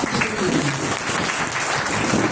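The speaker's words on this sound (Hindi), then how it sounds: "जो जोरदार तालियां" Loud, sustained applause fills a hall at a Foundation Day gathering as a community chairman's address pauses, steady dense clapping from a large audience throughout.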